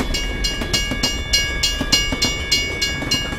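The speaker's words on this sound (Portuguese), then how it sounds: "Mas o trem demorou a passar" A train rolls through a level crossing with a loud, steady rumble and regular clickety-clack wheel beats over the rail joints, a constant high tone ringing above.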